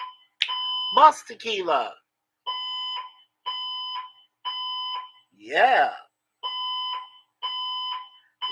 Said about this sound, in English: You can actually sing to this damn alarm.